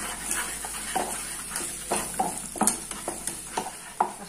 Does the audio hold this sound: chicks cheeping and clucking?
no